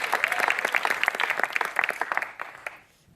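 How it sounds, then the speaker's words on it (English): A live audience claps in a dense burst of applause that carries for a couple of seconds, then thins into a few scattered claps and dies away. "everybody else, clap for that one guy who speaks French"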